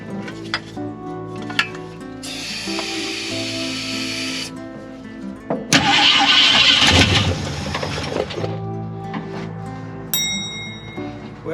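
A 1950 Ford F1 engine cranking after a squirt of starting fluid, a steady rhythmic starter churn with a loud, harsh burst partway through that fades without the engine catching, close up.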